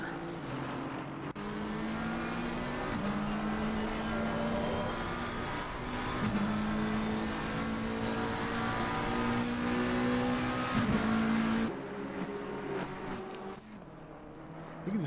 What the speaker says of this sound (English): Look at this gaggle of cars.